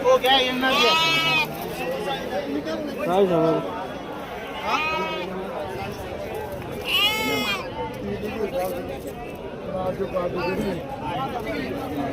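Goats bleat repeatedly at a busy livestock market in Shirur taluka, Pune district, Maharashtra, loud and close, with people talking throughout.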